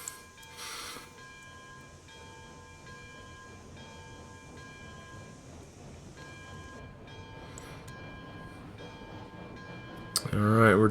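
Locomotive hauling a lumber train rolls away with a steady rumble, constant tonal hum and faint clanks, then a loud horn blast at the very end.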